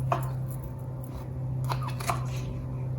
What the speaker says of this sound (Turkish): Domateslerimi şöyle iri iri doğrayacağım.